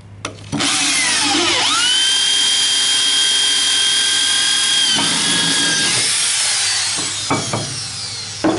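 Power drill fitted with an ARTU multi-purpose drill bit whines loudly at high speed, starting abruptly, holding a steady pitch for several seconds, then dropping and stopping with a couple of short bursts after.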